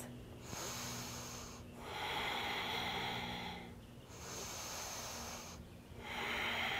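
Slow, deep breaths during a yoga balance pose, three long airy inhales and exhales heard close up in a steady rhythm, with a low hum behind and no talking.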